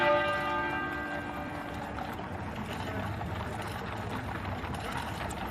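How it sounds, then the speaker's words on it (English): The great tenor bell at Westminster Abbey tolls once; a deep, resonant strike rings out and then fades slowly into a long humming decay over a low ambient murmur. "the great tenor bell at Westminster Abbey began to toll"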